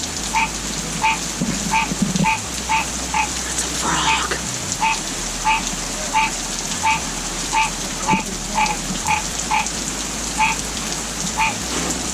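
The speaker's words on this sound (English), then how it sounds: "That's a frog." Steady rhythmic croaks from a frog repeat roughly every second, set against constant rain pattering on a surface.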